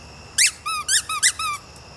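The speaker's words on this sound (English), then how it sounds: "Toy, Harley Quinn squeaky toy." A rubber squeaky dog toy squeezed five times in quick succession, each squeak a short, bright, pitch-bending honk, loud and close.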